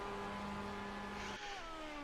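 Mazda race car engine at Spa in a racing video game, a steady droning whine that drops in pitch as the revs fall and rises again after a gear change, loud and close with no talking.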